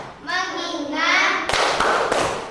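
A class of second-grade children performs a rhythmic focus clap, a quick burst of claps mixed with their chanting voices in a classroom, fairly loud and close.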